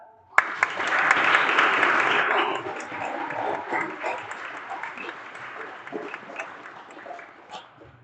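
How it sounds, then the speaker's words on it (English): Audience applause at the opening ceremonies of a regional skills competition, a sudden loud burst of clapping that swells quickly, holds dense and full, then gradually thins and fades over several seconds in a large hall. "let's give one more big round of applause for all of our instructors"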